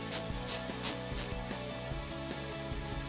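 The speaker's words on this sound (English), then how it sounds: "I'm going to take my Torx, my 3/8 ratchet," A 3/8 ratchet with a Torx bit turns a Torx bolt on a 2021-2022 Ford Bronco, giving a steady run of close, rapid pawl clicks in even rhythm throughout.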